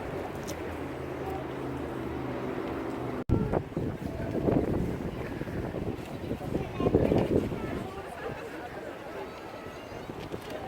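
Gusty wind buffets the microphone outdoors on a spring day in Prague, Czech Republic, a rough low rumble that rises and falls throughout, with brief laughter and talk mixed in.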